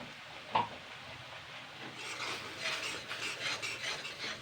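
Tomato, green chili, ginger and garlic stirred and fried in a pan for chili chicken, a soft scraping rasp with a light sizzle, faint and steady, one sharper scrape near the start.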